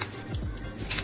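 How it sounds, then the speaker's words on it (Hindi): Curry leaves hit hot oil in a pan and give a short, close burst of hissing sizzle that swells toward the end, with no talking. "इसमें अभी तेल गरम होने के बाद में हमको डालना है करी पत्ता।"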